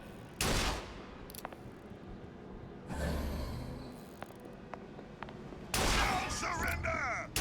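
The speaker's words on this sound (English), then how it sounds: "maybe it wasn't a good idea to immediately start shooting" Gunfire rings out during a shootout in the video game BioShock Infinite: Burial at Sea, with a few loud bursts and scattered sharp shots between them, heard close and loud.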